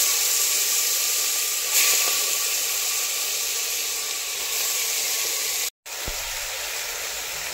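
Crushed goat head pieces hit a hot pan of roasting spices with salt and turmeric, setting off a loud, steady hiss of sizzling and steam that runs throughout with a brief gap near the end.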